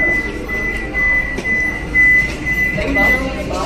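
A Vande Bharat express train pulls into Kharagpur Junction with a steady, close low rumble of rolling wheels, a thin sustained squeal over it, and faint voices around.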